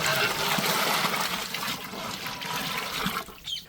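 Water pours into a cooking pot for bread biryani, a loud continuous gushing stream that tapers and cuts off after a few seconds, with no talking.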